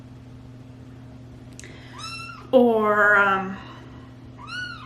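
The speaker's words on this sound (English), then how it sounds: "you're a very noisy kitty" A cat meows several times, drawn-out and insistent, one loud long cry in the middle, over a steady low hum with a brief word spoken.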